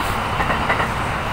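A Kintetsu Series 21 electric commuter train rumbles past nearby in Nara with a loud, continuous roar and faint rhythmic clatter of wheels on track.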